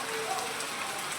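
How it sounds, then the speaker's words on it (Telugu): Heavy rain pours down, a brief, dense, even patter of drops on surfaces, close and steady. "వర్షం పడుతుంది, మంచి వర్షము"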